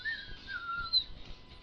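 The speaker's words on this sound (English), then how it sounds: "I'll just be whistling as I go down the road." A person whistles a meandering tune in a fantasy role-play session, thin and fairly quiet over a low background murmur, no talking.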